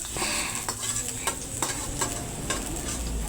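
Garlic fries in hot oil or butter in a pan for garlic shrimp, giving a continuous close sizzle with sharp clicks of a utensil stirring at intervals.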